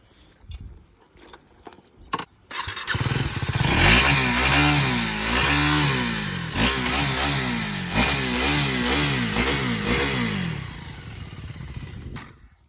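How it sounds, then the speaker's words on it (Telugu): A 2024 KTM 390 Duke motorcycle engine catches after a few clicks, then revs repeatedly in rising and falling bursts close by before settling down. "ఒకసారి వెహికల్ ఇంజిన్ అయితే స్టార్ట్ చేసి మీకు చూపిస్తాను, చూడండి"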